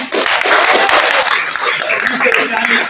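A crowd applauds sponsors at a community event in Kitui, a broad continuous wash of clapping that stays loud throughout, with voices mixed in.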